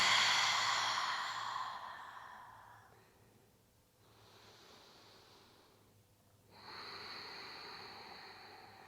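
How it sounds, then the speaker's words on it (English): A long, deep exhale during a yoga breathing flow, a soft broad rush of breath that gradually fades over several seconds, followed by quieter airy breaths, close and alone without talk. "And a deep exhale out."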